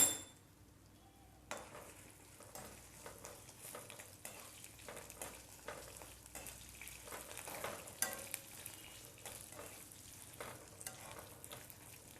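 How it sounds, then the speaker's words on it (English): Coriander frying in a pan makes a soft, continuous sizzle, with faint scraping and light metallic taps from stirring scattered throughout. "Allowing it to fry."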